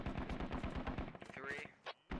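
Rapid automatic gunfire in the military shooter Squad, a dense run of loud, evenly spaced shots for over a second, then a few scattered bursts and a brief whine before a final shot.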